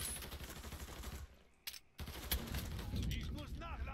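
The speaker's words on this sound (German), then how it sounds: "Der Scheißkerl hört nicht auf zu schießen." Enemies in Mafia III fire guns in loud bursts of rapid shots. The shooting breaks off into a short lull, then starts again with heavy overlapping gunfire and echoing impacts.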